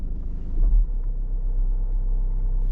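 A car reverses slowly with the steering at full left lock, giving a low, steady engine rumble heard close up, with a slight swell early on and no voices.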